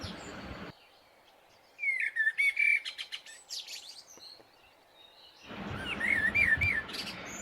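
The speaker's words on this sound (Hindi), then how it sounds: "नर पक्षी अपनी सुरीली आवाज में गीत गाने लगते हैं" Male birds singing in bright whistled, warbling phrases, in bursts that come and go, loud and fairly close, with a short quiet spell between the song passages.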